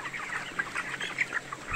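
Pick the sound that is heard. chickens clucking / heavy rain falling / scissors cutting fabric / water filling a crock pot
chickens clucking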